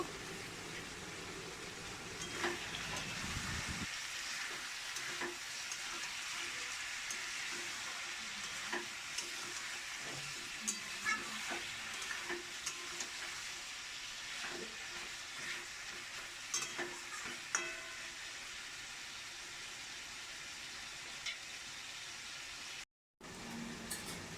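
Chicken pieces frying in a pan with garlic paste, a steady close sizzle that keeps going throughout, with occasional scraping and stirring sounds and no talking.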